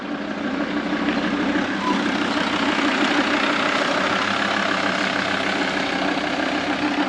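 The engine of a large road-trip vehicle in Mongolia runs again after a month-long repair, a steady, loud, close droning hum that holds evenly throughout.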